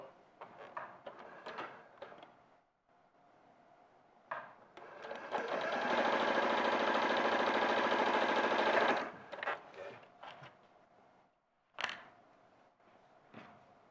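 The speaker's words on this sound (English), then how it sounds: "Just watching Joe sew" A sewing machine runs in a steady close whir for a few seconds, framed by scattered clicks and handling noises before and after, with no talk over it.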